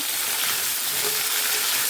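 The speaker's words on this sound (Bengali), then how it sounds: "এই যে আলুটা ভাজা হচ্ছে" Potatoes frying in a pan make a brief, even sizzle, a constant close hiss with no breaks or other noises.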